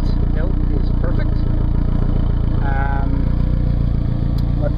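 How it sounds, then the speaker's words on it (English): A Saab car's engine runs steadily with a low, continuous exhaust rumble that holds level throughout, with brief voices heard faintly over it. "The exhaust note is perfect."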